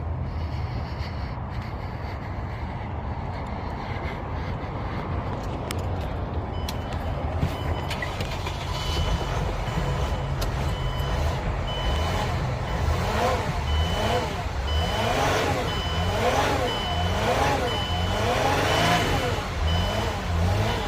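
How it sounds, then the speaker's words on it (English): The engine of a Mercedes Airstream Interstate van runs after a jump start, revving repeatedly in rising and falling surges at moderate distance. "the reason I'm hitting the gas to rev it up is I want to go ahead and get that alternator to charge the battery up"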